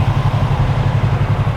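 A 2020 Yamaha YZF-R3 motorcycle engine runs close by with a loud, steady, rapidly pulsing low thrum.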